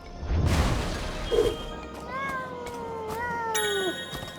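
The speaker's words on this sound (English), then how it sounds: "There's another cat." A cat meows in the video game Sir Whoopass Immortal Death: two drawn-out, rising-and-falling meows follow a burst of in-game noise, with faint dings and clatter around them.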